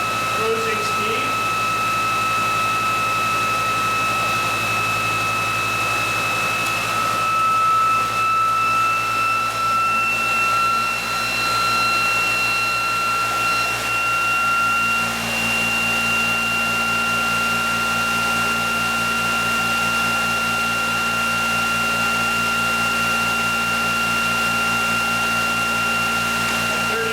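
ReGen-X motor running steadily at 3,457 RPM, a continuous mechanical whine with sustained tonal hums and a constant drone, holding level throughout with a slight shift partway through.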